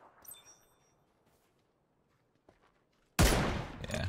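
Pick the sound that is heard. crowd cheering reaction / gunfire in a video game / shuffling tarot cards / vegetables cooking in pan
gunfire in a video game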